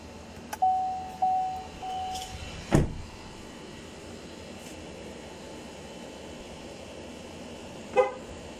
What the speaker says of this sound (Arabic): شوفوا هذا يعتبر هو قفل متأخر